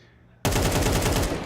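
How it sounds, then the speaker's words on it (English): A rapid burst of rifle fire from an AUG in Counter-Strike during a tournament match, loud and sudden after a quiet moment, sustained and dense to the end. "the AUG up at that range from Jimmy could be that one-shot headshot"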